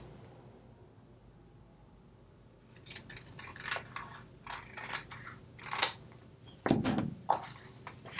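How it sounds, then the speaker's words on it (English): Scissors trimming the edge of a card covered with napkin paper, a series of close crisp snips and paper rustles after a quiet start, with a louder pair of cuts near the end. "I'm just going to cut away just on the edge."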